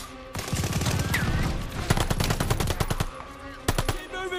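Machine gun fire from the Call of Duty: Vanguard video game: long, rapid bursts of automatic shots, loud and close, broken by short pauses and a final pair of sharp bursts.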